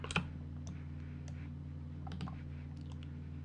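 Sharp mouse clicks during face selection in Blender, a few scattered clicks over a steady low computer hum, close and fairly quiet.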